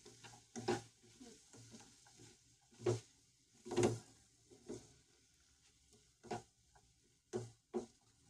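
A spoon stirs spices, salt and garam masala, through a pan of samosa filling, giving scattered scraping and clinking strokes at an uneven rhythm with quiet pauses between them. The sounds are close and moderately loud, and nobody talks.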